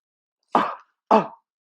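Two short, separate coughs, close and fairly loud, with a brief pause between them and silence around.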